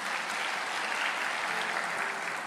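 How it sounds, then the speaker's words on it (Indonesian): A church congregation applauding during a sermon, a steady, even patter of many hands that is moderately loud and continuous, with no talk over it. "Loh kok gak ada tepuk tangan buat Tuhan?"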